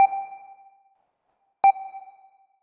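Two sharp, bright notes sound about a second and a half apart, each leaving a short reverberant tail that fades quickly.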